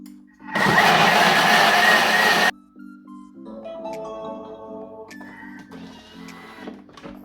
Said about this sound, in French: Moi je vais mettre à 30 secondes pour les gens qui ont le Thermomix. Vitesse 10.